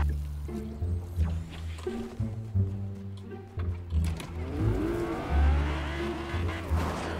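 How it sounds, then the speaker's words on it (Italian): Car in a video game driving along, engine droning and surging unevenly with a skid or two and bumps, loud and close, with little or no talk over it. "vai, guidiamo la nostra auto"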